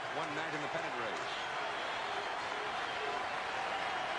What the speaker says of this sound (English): Not a real big crowd tonight, but awfully noisy, very lively.